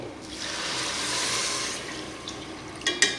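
Four cups of water poured into a pot of rice for Basanti pulao, a steady rushing pour that builds, tapers off, and ends with a few clinks at close range.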